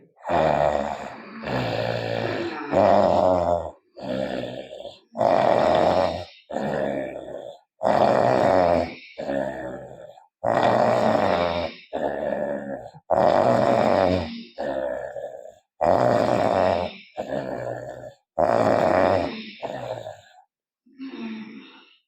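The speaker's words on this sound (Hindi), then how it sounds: "सांस लेते समय और छोड़ते समय खर्राटे की आवाज करना है। तो गले में खर्राटे की आवाज होगी।" Ujjayi pranayama breathing with a snoring throat sound: a long series of loud, close, rasping breaths in and out, each lasting a second or two with short pauses between, steady and rhythmic.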